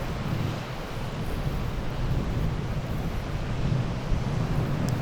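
Steady wind rushing across a Scottish loch during a trout and salmon fishing outing, a continuous broad roar with low buffeting gusts against the microphone, no voices.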